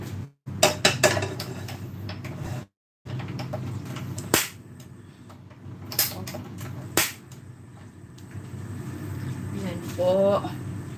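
A frying pan (kawali) being washed in a sink, with scattered metallic clanks and scraping knocks in irregular bursts, some sharp and close, and a voice speaking intermittently in between.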